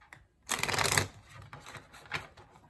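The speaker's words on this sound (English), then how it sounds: "I thought I was shuffling wrong." Tarot cards are shuffled in one quick, close riffling burst, followed by softer, scattered taps and slides of the cards being handled.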